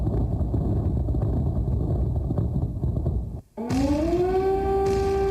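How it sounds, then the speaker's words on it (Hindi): Low rumbling wind noise gives way after a brief cut to an air raid siren in Kyiv winding up into a steady, sustained wail. "अलर्ट के लिए लगातार बज रहा है सायरन"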